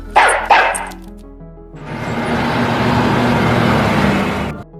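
A dog barks twice in quick succession, loud and close, followed by a long stretch of broad rumbling noise like a passing car or ambient din.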